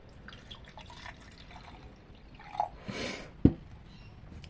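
Blackcurrant juice poured into a child's cup at home, a short liquid splash and trickle lasting about a second, with a few faint drips and a sharper clink near the end, close by and fairly quiet.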